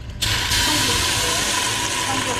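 Steam hisses loudly from a big pot after rice wine goes in while clams are being cooked with ginger and onion, a broad continuous rushing hiss that starts abruptly and stays steady throughout.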